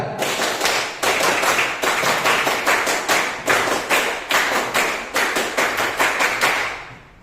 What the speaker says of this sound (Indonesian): Sekali lagi 2 kali tepuk pramuka